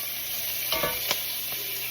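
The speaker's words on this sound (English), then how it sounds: "you got to add wine to deglaze the pan" Red wine sizzles and hisses as it deglazes a pot roast pan, a steady frying crackle with a few sharp scraping or stirring strokes close by.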